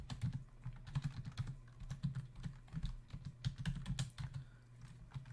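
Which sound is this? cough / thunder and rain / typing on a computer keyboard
typing on a computer keyboard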